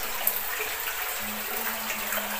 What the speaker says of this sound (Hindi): ये पानी आ रहा है पत्थर के नीचे से पानी आ रहा है।